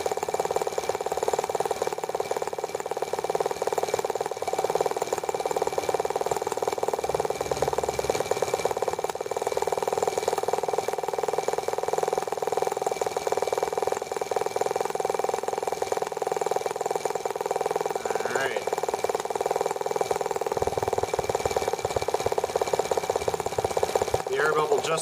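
T26 tractor engine idling after starting, a steady loud mechanical drone with a constant rhythmic throb and faint knocking, running close and unbroken throughout.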